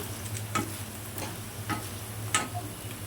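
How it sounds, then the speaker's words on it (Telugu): Potatoes deep frying in hot oil until browned give a steady low sizzle, with a few soft clicks of a utensil against the pan scattered through it, no voices. "ఫ్రై చేసుకోవాలి మొత్తం డీప్ ఫ్రై అవ్వాలి బ్రౌనిష్ కలర్ వచ్చే వరకు"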